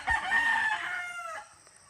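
An eight-month-old white Kelso gamefowl rooster crows once, a clear and fairly close call that fades out, with no talk over it.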